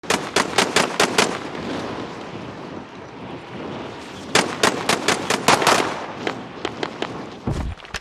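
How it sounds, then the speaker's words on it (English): A precision airstrike in the Call of Duty Warzone video game: a rapid series of sharp, loud explosive blasts in two clusters, with a rushing, noisy wash between them and no speech. "Friendly precision airstrike inbound."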